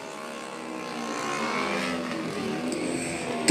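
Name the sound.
racing motorcycle engine during a race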